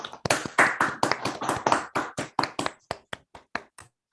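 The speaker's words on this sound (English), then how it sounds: "so we can applause first," Clapping after a maths seminar talk, a couple of dozen distinct claps in a quick, uneven rhythm that thins out and fades toward the end, close and clear, sounding like only a few people.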